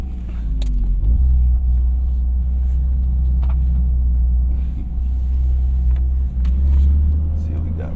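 Toyota GR Corolla pushed hard into a turn, with a steady deep engine and road rumble filling the cabin and a slight swell in drive near the end; no speech.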